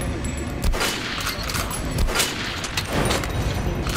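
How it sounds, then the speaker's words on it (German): Repeated gunfire rings out in Metro Last Light as shots are aimed at an armoured training dummy, a steady run of loud reports with several sharper bursts across the clip, no talking over it. "Jetzt schieß auf die Attrappe mit Rüstung"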